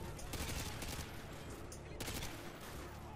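Dense, continuous gunfire in a Call of Duty Modern Warfare 2 battle, rapid shots and bursts overlapping loudly for the whole stretch with a player's voice talking faintly underneath.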